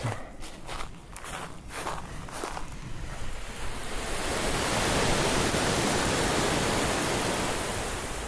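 A new lawn water sprinkler hooked to a garden spigot bursts into a steady loud hiss of spray that swells and holds as water throws 20 to 25 feet, preceded by a few footsteps.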